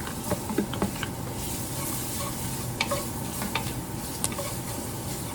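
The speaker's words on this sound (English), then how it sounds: "So I'm going to do the onions first." Chopped onions hit a dark gumbo roux and sizzle steadily up close, with a spoon scraping and stirring through them in irregular strokes and soft clicks; no voices.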